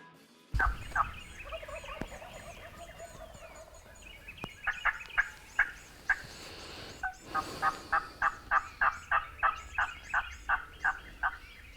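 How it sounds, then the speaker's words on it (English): Wild turkeys gobble repeatedly in Texas woods, a string of loud rattling calls building from scattered bursts into a rapid series of a dozen or more, with faint bird chatter between. "We heard a couple of gobbles immediately"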